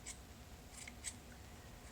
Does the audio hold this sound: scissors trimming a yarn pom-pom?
yes